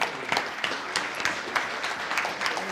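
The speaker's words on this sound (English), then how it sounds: "A louder round of applause" A crowd at a women chartered accountants' conference claps after a session, a steady, fairly loud burst of many hands with a few sharper claps standing out, unbroken for the whole short stretch.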